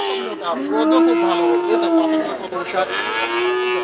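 A Holstein Friesian bull calf of about thirteen months, at a farm cattle sale, gives one long, loud, close moo that holds steady and wavers in pitch through most of the clip.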